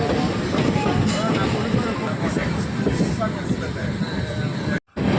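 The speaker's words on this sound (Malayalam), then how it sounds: "ട്രെയിൻ പയ്യാണ് പോകുന്നത്." A Chennai-Alappuzha superfast train creeping slowly along track under maintenance work gives a steady, close, broadband rumble that barely changes, cutting out briefly near the end before resuming.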